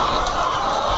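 Dense, continuous clucking and squawking from a large flock of laying hens on a layer farm of about 6,100 birds, loud and close with no pauses.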